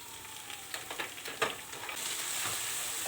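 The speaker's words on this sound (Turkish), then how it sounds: "Şöyle salçanın kokusu çıkana kadar bir kavuruyorum" Tomato paste with black pepper and red pepper flakes fries in a pan, a soft, close sizzle broken by several scraping stirs, then settling into a steadier hiss.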